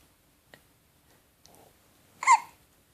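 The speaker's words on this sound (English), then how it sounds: "Baby's hiccups." A baby hiccuping: one sharp, fairly loud hiccup near the end, preceded by a few faint small clicks and soft breathy sounds in an otherwise quiet room.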